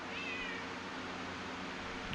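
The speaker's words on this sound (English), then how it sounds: "yeah, we got a random cat." One drawn-out cat meow near the start, faint and somewhat distant over a steady background rumble outdoors.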